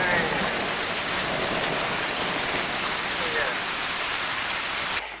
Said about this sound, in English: we've been getting absolutely slammed with rain